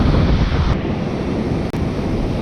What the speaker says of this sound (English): I don't know how well you can hear me in the wind.